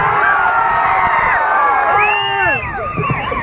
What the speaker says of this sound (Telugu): మీరు ఒకసారి గట్టిగా చప్పట్లు మడత పెట్టండి